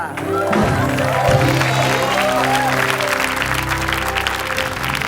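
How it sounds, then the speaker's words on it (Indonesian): A studio audience applauds a celebrity couple, Sahrul Gunawan and his wife, with steady, dense clapping that carries on throughout, a host's voice and faint music underneath. "Yuk, kalau tepuk tangan untuk Sarung Drama dan istri tercinta."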